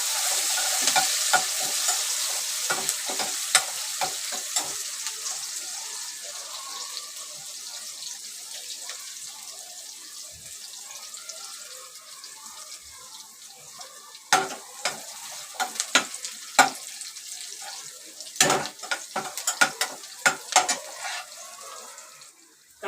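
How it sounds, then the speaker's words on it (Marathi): Onion sizzles in hot oil in a home kitchen, a steady loud frying hiss throughout, broken by sharp crackles and clinks of stirring that cluster toward the end. "तेल तापत ठेवलंय, तेल तापायला देऊया. तापली आहे, मी कांदा घालते. कांदा चांगला भाजून घेणार आहे."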